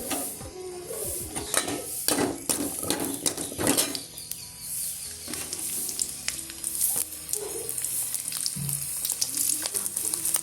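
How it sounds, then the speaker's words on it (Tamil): Onions sautéing in oil in a kadai, sizzling steadily under clinks and scrapes of a spoon against the pan, with no voices. "வெங்காயத்தை போட்டுக்கலாம் வெங்காயம் வதங்கிட்டு"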